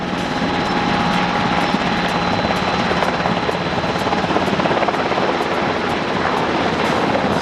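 An MH-60R Seahawk naval helicopter hovers close by and makes a tail-wheel running landing, its loud, steady rotor and turbine roar continuous throughout with no talk.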